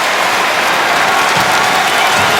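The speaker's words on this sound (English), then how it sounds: "Crowd on their feet here." A hockey arena crowd stands and applauds in the final minute of a Toronto Maple Leafs versus Columbus Blue Jackets game, a dense, loud, continuous wash of clapping and cheering.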